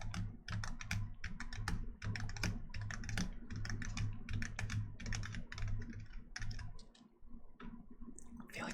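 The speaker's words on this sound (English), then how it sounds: "every time I hit the keys, it just like slams the table" Rapid typing on an old computer keyboard whose worn base lets it slam against the table, a dense stream of close, sharp clicks and knocks with a brief pause near the end, quiet overall.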